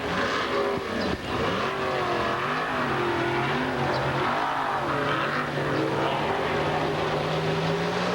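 Race car lapping the Tampa track in a 1998 series event, a steady loud engine drone with rising and falling pitch as it passes through the turns, heard from a distance and continuous throughout, with no talking.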